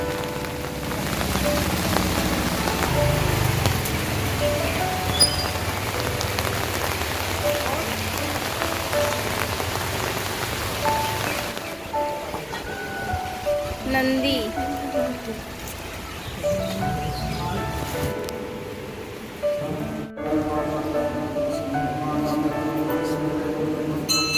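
Steady rain pours down, pattering densely on a hard surface with a constant, even hiss throughout.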